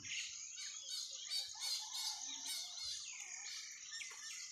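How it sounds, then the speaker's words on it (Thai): Frogs call from somewhere overhead outside a house in the morning, a steady run of rapid, pulsing high-pitched calls over a constant background hum of insects, with no voices. "เสียงกบร้องอยู่ข้างบนนะครับผม"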